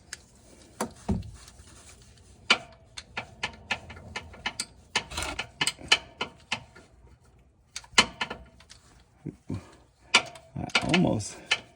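Ratchet driving an E12 external torx bit on the front drive unit of a 2021 Tesla Model Y Long Range, a sequence of close, sharp clicking bursts with short pauses, some bursts quicker and denser, mixed with faint handling noises.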